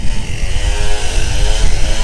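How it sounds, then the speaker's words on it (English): A chainsaw trimming tree branches at a house build site in the Philippines drones loud and steady from a short distance, a continuous buzzing rasp with slight surges in pitch. "really loud on this chainsaw"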